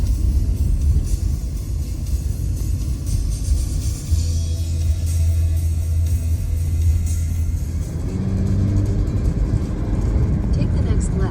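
A car drives along a road, its steady low engine and tyre rumble running through the whole stretch with a brief deeper drone in the middle, while voices talk over it.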